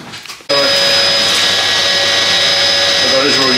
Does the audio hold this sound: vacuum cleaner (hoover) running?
yes